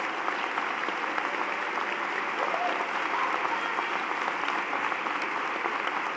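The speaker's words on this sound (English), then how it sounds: "please stand and receive our applause wherever you are" Steady, sustained applause from a large audience at a law school commencement ceremony, a continuous wash of clapping heard from a distance with no break.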